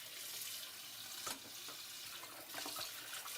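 Tap water runs into a cooking pot that will be used for boiling salted beef, a steady faint splashing stream with a few brief clinks, heard alone.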